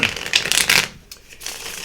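Tarot cards being shuffled by hand, a quick flurry of crisp riffling and slapping, close and brief, pausing for a moment before a lighter shuffle resumes.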